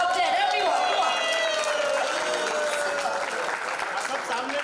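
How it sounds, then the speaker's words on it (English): Audience applause at an in-flight phone unboxing event for Oppo, a dense steady wash of clapping filling the cabin throughout, with voices and tonal chatter mixed in. "Can we have a huge round of applause for Oppo and the top 10?"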